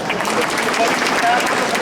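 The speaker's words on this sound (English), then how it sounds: "let's clap for them also" A burst of applause from a crowd, steady clapping that fills the whole moment with no pause.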